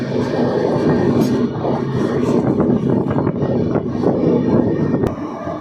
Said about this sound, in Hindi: हमारी ट्रेन अब इंटरसिटी इसको पछाड़ते हुए निकल रही है